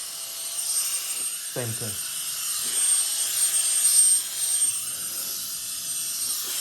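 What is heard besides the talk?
brushless electric air duster running in first gear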